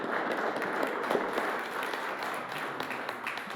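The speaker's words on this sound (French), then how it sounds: "Mais je pense qu'on peut l'applaudir, elle et Yannick." Applause from the audience at a general assembly of Mosaïk Cristal, a steady, dense patter of many hands clapping at moderate distance for the full length, with no talk over it.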